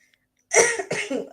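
Two quick, harsh coughs close to the microphone after a moment of near silence.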